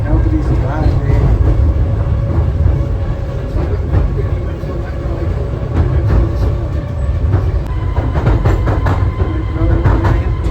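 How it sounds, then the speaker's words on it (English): A small pier train running along its rails at the seaside, a steady loud rumble with rhythmic clickety-clack and rattling, heard from inside the carriage. "we're on the pier train"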